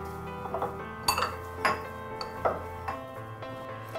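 A spoon stirs a sweet potato and peanut kabab mixture seasoned with chilli, lemon juice, pink Himalayan salt, red chili powder and black pepper in a bowl, giving close, irregular clinks and scrapes with no talking.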